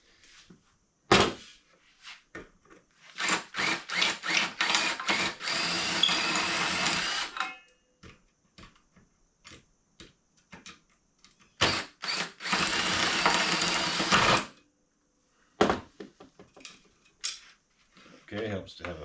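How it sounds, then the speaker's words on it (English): A power drill bores into metal on a 1977 Western Flyer in two long, whining bursts, with shorter stop-start triggers between them and brief quiet pauses. "helps to have a almost sharp drill bit"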